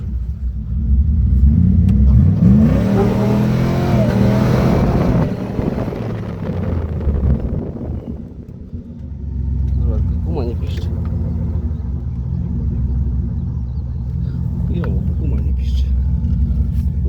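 A Jeep ZJ's 5.2-litre engine with manual gearbox revs hard and loud, the pitch climbing, then settles into a steady rumbling drive as the car pulls away, with wind buffeting the microphone.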